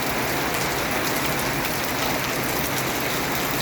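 Heavy rain pouring in Las Piñas during a typhoon, a dense, loud and unbroken hiss of drops hammering surfaces close by.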